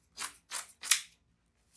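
Scissors snip through deco mesh for a wreath: three quick, crisp cutting strokes close by, followed by a faint fourth start, with no talking.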